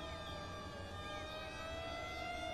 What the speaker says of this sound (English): It's just a fire truck.